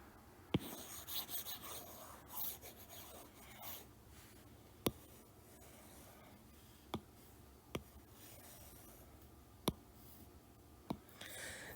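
Writing is erased from a board with quiet, scratchy rubbing strokes, broken by several sharp little taps and clicks spaced through a hushed room.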